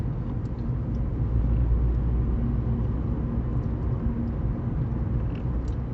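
Steady low road rumble and engine drone inside a Vauxhall Corsa E cruising at about 30 mph, continuous and even with no talking.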